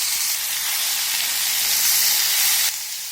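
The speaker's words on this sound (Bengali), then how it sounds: "এই সময় গ্যাসের ফ্লেমটাকে একটু বাড়িয়ে দেবো, যাতে এই টমেটোটা তাড়াতাড়ি ভাজা হয়ে যায়।" Tomatoes frying in a pan over a raised gas flame give a steady, loud sizzle and hiss that holds throughout, easing slightly near the end.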